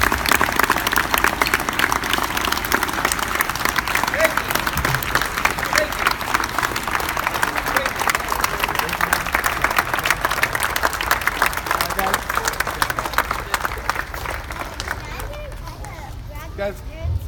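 An audience at a gathering applauds for Kevin Atwood, a father, with long, loud sustained clapping and crowd noise, tapering off near the end as voices murmur.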